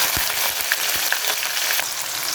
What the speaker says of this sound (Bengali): এখন এটাকে একটু ভাজবো।